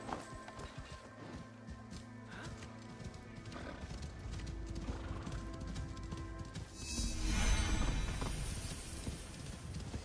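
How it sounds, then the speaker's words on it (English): Horse hooves clip-clop at a gallop while riding in Assassin's Creed Shadows, with steady game music underneath and a louder rush of movement and a whinny near the end. "come on, horse riding."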